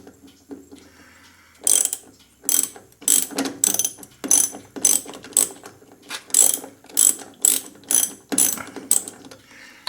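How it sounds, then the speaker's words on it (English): A ratchet turns a stuck screw while a chair is being built: sharp, rhythmic ratcheting clicks close by, coming in regular bursts. "I think I twisted off the screw."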